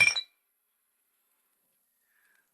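Glasses clink together in a toast over beer, a quick bright chime of two or three touching glasses, close and short, then near silence with a faint ring.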